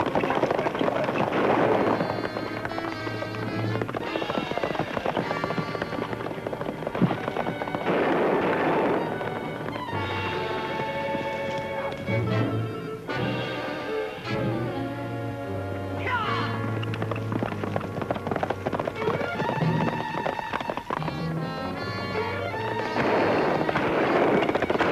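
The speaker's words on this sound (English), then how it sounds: "they're shooting at us" Gunfire during a horseback chase in an old western, loud sharp bursts over dense dramatic orchestral music that fills the whole stretch, with galloping and no clear speech.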